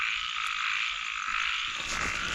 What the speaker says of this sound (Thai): ทั้งอึ่งทั้งกบทุกคนเลย